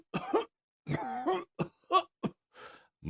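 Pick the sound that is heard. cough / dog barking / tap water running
cough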